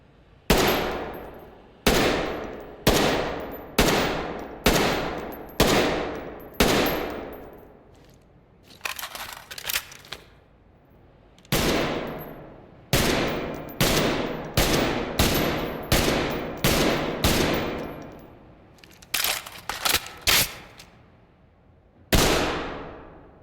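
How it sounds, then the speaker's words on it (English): Repeated gunfire from the tactical shooter game Ready or Not, loud sharp shots in bursts with short pauses and ringing decays, some rapid strings of fire, no talking. "as far as the guns and the voice lines go, as well as other miscellaneous sounds, there's no easy way to tell you how they sound"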